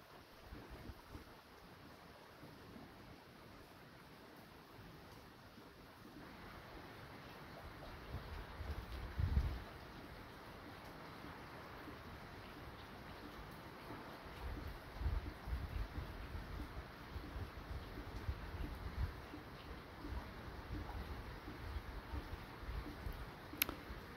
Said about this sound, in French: Il y a le vent qui commence à s'y mettre.